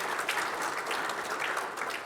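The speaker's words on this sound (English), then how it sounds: "I think you should all give yourself a round of applause" A room full of people at a discussion on equity and the outdoors claps together in steady, dense applause that fills the whole moment without talk.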